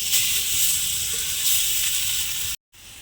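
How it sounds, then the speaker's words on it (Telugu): Chicken sizzles on a hot pan, a steady close hiss of steam and spatter that cuts out briefly near the end before resuming. "చికెన్ పెను మీద వేసేసుకుందాం"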